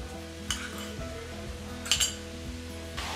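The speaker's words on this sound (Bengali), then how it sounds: "এবার আমি চিনি দেব।" Sugar goes into a pan of boiled papaya for a sweet chutney: a spoon clinks and scrapes against the metal pan a few times, set over a steady low mechanical hum.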